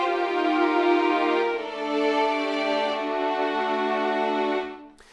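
A synthesizer patch holds a default sustained long note, a rich steady harmonic tone with slight swells in level that fades out at the end, heard alone without talk.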